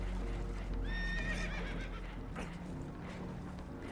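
Spooked horses aboard a damaged boat in Red Dead Redemption 2 let out a sharp, high whinny near the start, followed by stamping hooves and rough, rumbling background noise.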